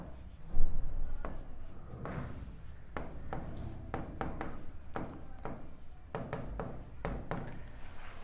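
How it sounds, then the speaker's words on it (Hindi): A pen scratches across paper as a trigonometry solution is written out by hand, giving soft irregular strokes and taps at close range with faint room noise and no talking. "पहले जो गिवन है उसको लिख लेंगे हम लोग"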